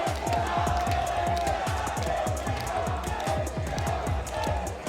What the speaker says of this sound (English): We got a rowdy crowd today.